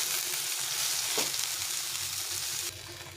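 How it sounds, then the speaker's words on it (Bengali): Onions frying in oil left in a pan after roasting eggplant and tomatoes make a loud, continuous close sizzle, with one brief stirring scrape partway through. "এখন এই তেলের মধ্যে আমি কিছুটা পেঁয়াজ একটু ভেজে নেব।"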